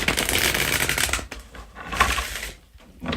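A tarot card deck is riffled and shuffled up close, giving a dense crisp flutter that breaks off, resumes in a shorter burst and starts again at the end, with no talking.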